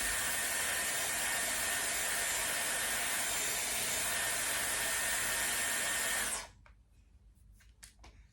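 A Dyson Airwrap hair styler blows a loud, steady rushing hiss of air while drying hair, then cuts off abruptly after about six seconds, leaving quiet handling noises.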